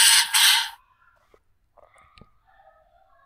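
A rooster crows loudly in a short burst from a bird audio file played back by a computer program, followed by faint clucking and scattered bird calls.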